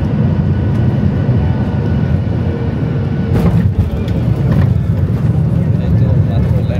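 Airplane landing at Langkawi International Airport, heard from inside as a loud steady low engine and rolling roar with a brief rattling burst midway, continuous throughout.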